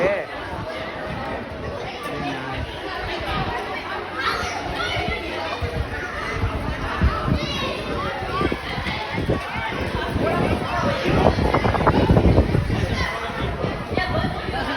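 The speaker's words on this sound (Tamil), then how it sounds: "சவுண்ட் கேட்குதா பசங்களோட சவுண்டு" Children playing and chattering outdoors, a busy mix of overlapping young voices, running footsteps and general crowd babble that grows somewhat louder toward the end.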